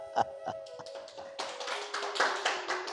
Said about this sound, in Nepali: बुझेर ताली कि नबुझेर ताली?